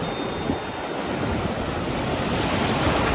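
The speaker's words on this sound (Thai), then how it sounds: "ที่ระยองเนี่ยคลื่นแรงกว่าที่ชลบุรีเยอะมากนะครับ" Strong sea waves surge continuously at a beach in Rayong, Thailand, a loud, steady roar of surf with wind buffeting the microphone and no voices.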